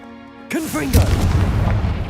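A Confringo spell blast in the Hogwarts Legacy video game: a brief voice, then a loud, close, booming explosion that rumbles on and slowly settles.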